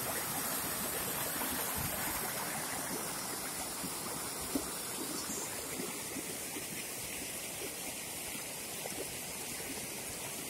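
A forest stream in a remote Vietnamese jungle flows steadily, a dense, continuous rush of water close by with no voices, holding an even level throughout.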